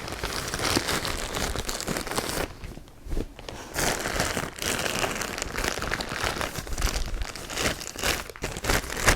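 Loud, continuous crinkling and rustling of a plastic bag as it is wrapped by hand around a vacuum hose while packing latex foam, with brief pauses and no talk.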